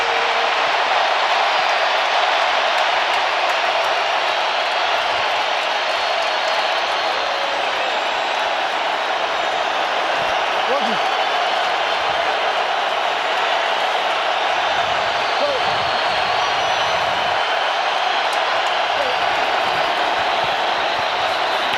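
Stadium crowd roaring at an NFL game between the Los Angeles Rams and Seattle Seahawks, a dense, sustained wall of cheering and noise holding steady and loud throughout, with no distinct breaks.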